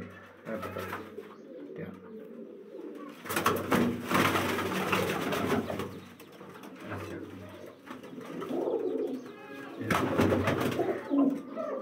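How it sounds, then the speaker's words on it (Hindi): Pigeons cooing at a low-flyer breeding and flying loft, soft repeated coos layered with fluttering and background bustle that swell in louder bursts, without speech. "दोस्तों यह कबूतर है मेरा"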